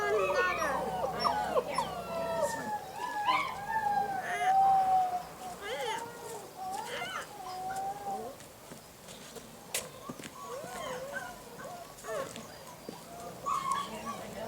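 A Bernese Mountain Dog puppy whines and whimpers in high, wavering cries through the scene, close and moderately loud, with a person speaking softly at times.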